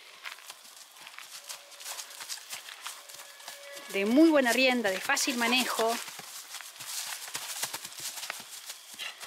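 A chestnut horse's hooves clop steadily at a walking pace beneath someone speaking, with a brief louder stretch of voice in the middle.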